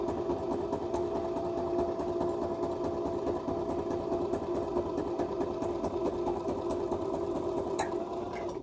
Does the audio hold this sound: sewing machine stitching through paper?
yes